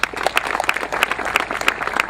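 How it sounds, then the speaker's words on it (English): Audience applause at a press conference marking a 400th property demolition: a steady, dense patter of many hands clapping close by, holding an even level for the full couple of seconds. "Give a big round of applause, Kelly Kearney."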